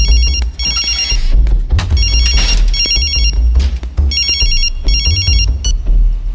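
A phone ringtone plays loudly and repeatedly, its electronic trilling bursts coming in regular pairs over a steady background hum.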